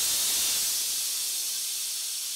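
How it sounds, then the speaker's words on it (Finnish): Steam hisses out of a home beer brewing vessel while a Pilsner Urquell-style lager is being brewed, a steady bright hiss that fades slightly over about two seconds, close and alone. "Päästetään ihan aikaksi vähän näitä suurempia höyryjä pois tuolta."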